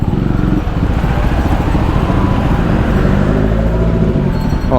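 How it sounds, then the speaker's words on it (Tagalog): Heavy road traffic heard from a Yamaha Sniper 155R motorcycle ride, a dense steady roar of engines and rumble close around, loud and unbroken with no talk. "Sobrang traffic mga sir."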